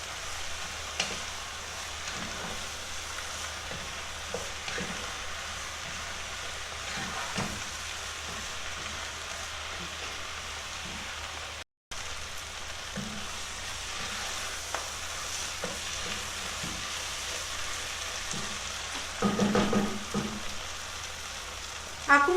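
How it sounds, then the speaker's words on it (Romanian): Onions, peppers and salt frying in a pan, a steady close crackling sizzle throughout, with periodic scraping of a spoon stirring and a louder clatter near the end. "Mai lăsăm 3-4 minute, amestecând din când în când"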